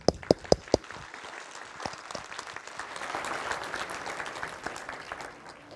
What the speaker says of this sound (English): Let's give our stage to Mathieu with a big applause